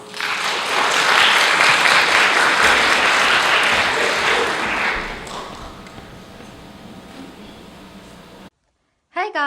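A large audience at a TEDx event applauds to welcome the first speaker, a loud dense roar of clapping that fades out after several seconds, followed by a brief pause and a short voice.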